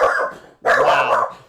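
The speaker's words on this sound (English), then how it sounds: "You guys probably hear my dog freaking out." A dog barks at a UPS delivery arriving, two loud, close barks in quick succession with a brief pause between them, agitated and sharp, with no talking.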